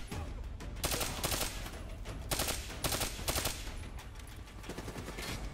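Bursts of rapid automatic gunfire in Call of Duty: Black Ops 3 crackle repeatedly in short volleys, loud and close, with brief gaps between bursts.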